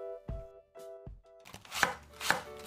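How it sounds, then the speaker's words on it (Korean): A knife cuts cabbage into thin strips on a board. A few spaced, sharp chops are followed by quicker, scraping cuts, close and crisp, with faint tones in the background and no speech. "양배추는 부침할 때 겉돌지 않도록 얇게 채 썰어주고"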